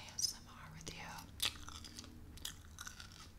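A crunchy packaged snack from a snack subscription box is bitten and chewed close to the mic, with a few crisp crunches in short bursts among quiet mouth sounds.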